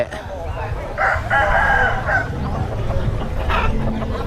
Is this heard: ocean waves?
no